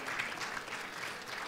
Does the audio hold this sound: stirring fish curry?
no